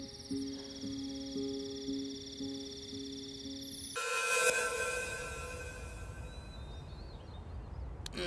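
A telephone rings repeatedly with no answer, a steady electronic ringtone pattern for about four seconds. An abrupt cut then leads into insect-like chirping ambience.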